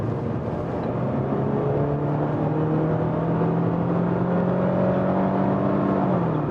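A Renault Samsung SM6 with the 2.0 GDe engine accelerates hard while overtaking at highway speed, its loud, heavy engine drone climbing steadily in pitch under constant road and wind roar.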